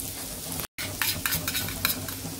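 Masala with egg curry masala sizzles as it is stirred and sautéed in a pan, a soft steady frying hiss broken by a short gap and a few light scraping stirs.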